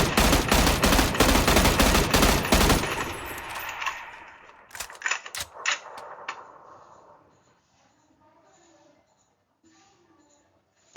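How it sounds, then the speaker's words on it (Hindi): An M16A4 rifle fires a fast burst of loud, sharp shots for about three seconds, then a few scattered single cracks, followed by quieter clinking and rattling as the firing stops. "अब इसके फायरिंग के आवाज के बारे में हम सुनते हैं।"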